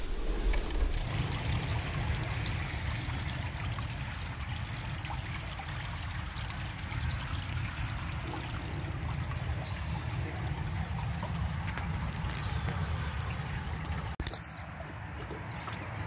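Creek water flows and trickles steadily outdoors, a constant close babble with one brief knock near the end and no talk.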